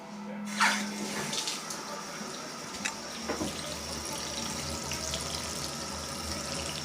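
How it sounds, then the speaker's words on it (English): Steady broadband wash of running water from a pedestal sink tap, continuous and fairly close, with a few faint clinks near the start. "Running water."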